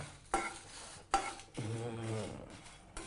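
Cumin seeds sauté in a pan while being stirred, giving a few soft scraping strokes with a light sizzle, close and quiet, with short gaps between the strokes.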